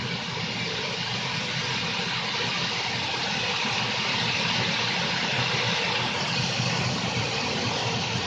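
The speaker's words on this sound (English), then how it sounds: "The ECU will increase RPM very slowly to maximum RPM." A Swiwin model jet turbine runs at high RPM with a loud, dense, continuous roaring whine that holds steady throughout, close up and with no voices.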